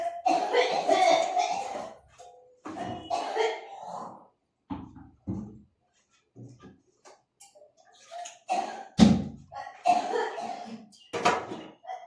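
A woman coughs repeatedly in harsh, wet bursts separated by short pauses, close and loud, with faint voices in between.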